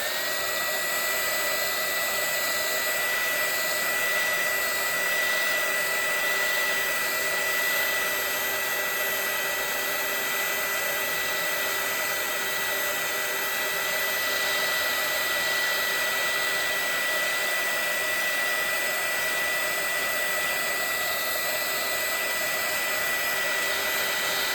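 Hair dryer blowing on a watercolor painting, a constant loud whooshing whine that stays steady throughout with no pauses or talking.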